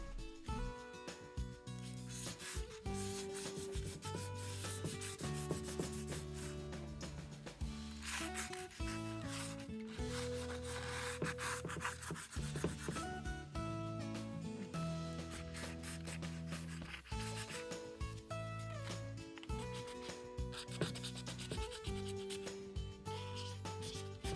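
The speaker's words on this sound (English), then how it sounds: "So I tri-fold little pieces of sandpaper. I'm using a 150 here" Soft wood is sanded by hand with a tri-folded piece of 150-grit sandpaper, giving repeated quick scratchy back-and-forth rubbing strokes, close and fairly quiet, with no speech.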